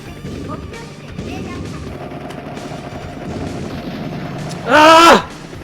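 Continuous rattling gunfire and explosions from Metal Hawk, an arcade helicopter shooter on PS4, as jets are shot down. The sound is dense and steady, then a loud, bright, high-pitched cry bursts out near the end.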